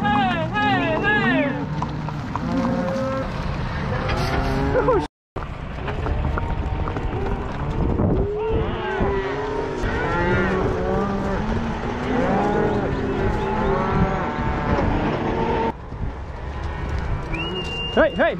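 A herd of cattle moos repeatedly during a mountain cattle drive, with overlapping loud and distant calls, hooves moving and people shouting amid the herd.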